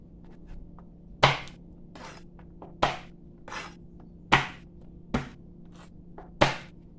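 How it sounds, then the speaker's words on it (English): Garlic cloves are smashed on a kitchen board for mashed potatoes, making about six sharp, close thuds at irregular intervals of roughly a second, each followed by a brief scrape, with quiet gaps between and no talk. "Here I have some garlic cloves, and I'm going to smash these, remove the outer shell, and add to my potatoes."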